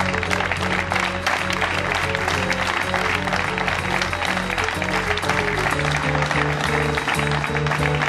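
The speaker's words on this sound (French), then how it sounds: "Et puis surtout, applaudissez-le lui pour ses merveilleux textes." Audience applause at a live show rings out as a dense, continuous clatter of hands, blended with sustained musical tones underneath and holding at an even level throughout.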